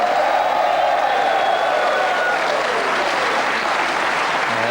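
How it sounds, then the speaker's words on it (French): A TV studio audience applauds a guest named Danielle Lloyd on a French evening show, producing dense, steady clapping with a few cheers and whoops throughout. "Je demande d'applaudir Danielle Lloyd aujourd'hui."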